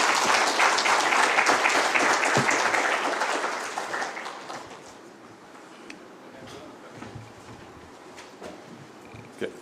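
A crowd at an outdoor Green Climate Fund launch near Upper Athi River claps to welcome the chief guest, loud at first then thinning out after about four seconds into scattered claps and faint background murmur.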